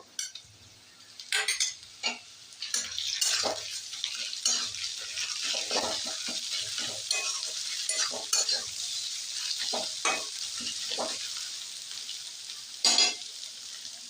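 Onion and garlic paste sizzle steadily in a frying pan while a metal spoon stirs and scrapes, clinking against the pan in irregular strokes, close and clear without talking.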